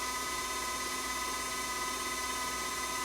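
An electric mixer whirs steadily through batter, a constant high-pitched motor whine with a smooth, unbroken tone, close and alone with no talking.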